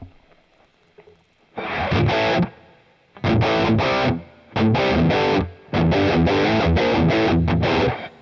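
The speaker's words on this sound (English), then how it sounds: "Let's turn it all the way off so you can hear the reverb." Electric guitar with reverb played through a Boss Katana MKII amp, heard as three loud, distorted strummed passages separated by short gaps in which the reverb tail fades.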